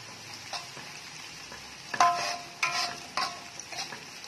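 Spice paste sautéing in a pan, a steady low sizzle with spatula scrapes and stirring knocks clustered around the middle, fairly close and moderate in level, with no talking.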